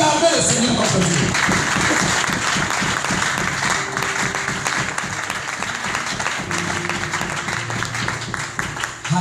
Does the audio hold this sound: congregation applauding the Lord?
yes